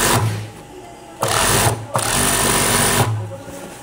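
An industrial sewing machine stitches garter in a garment workshop, loud whirring bursts that stop briefly and restart, running close and steady over a few seconds.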